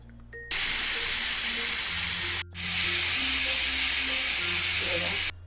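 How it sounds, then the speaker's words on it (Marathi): A pressure cooker vents loud, steady hissing steam while cooking soaked rice for sweet jaggery coconut rice on low to medium heat, one long burst with a brief break before it resumes and cuts off. "2 शिट्ट्या लो टू मिडियम हीटवर 2 शिट्ट्या काढून घेऊ"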